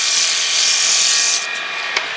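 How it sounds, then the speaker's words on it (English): Steady, hissing abrasive rub of sandpaper against wood spinning on a lathe, which abruptly cuts off, leaving a quieter hum and one brief scrape. "After sanding with a grit, it's a good idea to then sand along the length of the grain"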